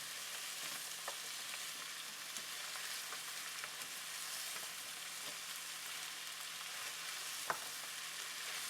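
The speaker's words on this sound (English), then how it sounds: "We're just going to cook this until it's basically like a light translucent color." Squash sizzles steadily as it fries in a pan, a soft continuous hiss with occasional faint scrapes of stirring, fairly quiet and close, no voices.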